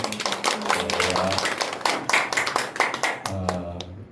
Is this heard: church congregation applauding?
yes